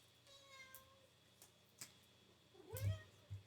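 A hungry cat meows several times indoors, soft at first and then with a louder, drawn-out cry near the end, heard alone over a quiet room.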